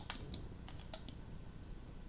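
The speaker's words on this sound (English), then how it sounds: "if I hit 3 on the keyboard" A few soft, quick keystrokes on a computer keyboard, a small cluster of light clicks in the first second over a low steady room hum, then quiet.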